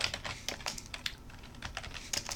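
Rapid keystrokes on a computer keyboard as a command is entered, a quick irregular run of close, crisp clicks with no speech.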